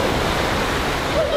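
Sea waves at the Polish seaside make a steady, broadband wash of surf, continuous and fairly loud throughout, with no distinct breaks between waves.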